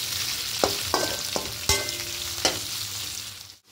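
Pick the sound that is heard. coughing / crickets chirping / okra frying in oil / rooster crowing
okra frying in oil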